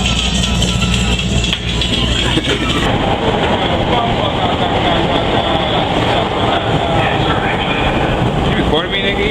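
A train rumbles along with a steady low roar and a constant clatter, while people talk loudly over the noise.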